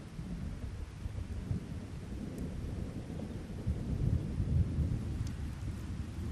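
Steady rain falls over old ruins in Scotland as a dense, even hiss with a low rumbling undertone that swells slightly midway. The sound is continuous and unbroken, with no voices.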